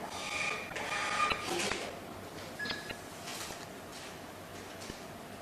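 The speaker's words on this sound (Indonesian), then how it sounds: "Contoh fungsi F1, print 1 kali serial number." An NCL 7100 money counting machine prints a serial number once, giving a brief faint mechanical whirr and clicks over a steady background hum, with a few sharp ticks afterward.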